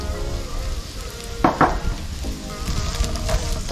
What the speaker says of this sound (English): but oh no, we got some sizzle.